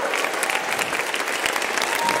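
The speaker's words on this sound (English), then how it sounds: "clap it up for these musicians, everybody" Dense, steady applause from an audience at a gospel choir concert, a continuous wash of many hands clapping throughout, moderately loud with no pauses.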